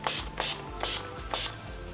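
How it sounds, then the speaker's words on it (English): Makeup finishing spray misted in four quick bursts, each a loud, close hissing puff separated by short pauses, with no voices. "So I'm gonna add a bunch of sprays."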